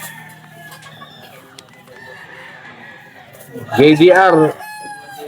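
An Elevator gamefowl rooster at a game farm gives one loud, close crow after quieter clucking and background farm sounds, with other fowl faintly around.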